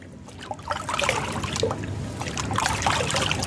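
Dissolved chemical fertilizer solution poured at the base of giant chrysanthemum plants, a close splashing trickle of water that runs steadily with small surges and drips.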